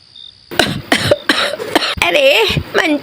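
Old woman coughing in a cartoon scene, a burst of several rough coughs close up, followed by strained, wavering vocal sounds.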